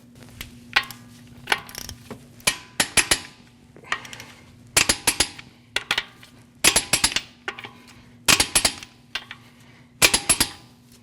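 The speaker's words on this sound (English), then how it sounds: "we're going to torque these at 100 foot-pounds in a crisscross manner" A torque wrench ratchets and clicks in short repeated bursts while tightening wheel lug nuts on a 2014-2023 Jeep Cherokee, close and sharp with quiet pauses between each nut.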